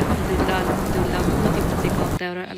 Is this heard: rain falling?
yes